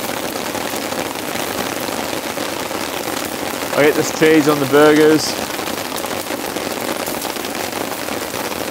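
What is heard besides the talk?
heavy rain on a tent while camping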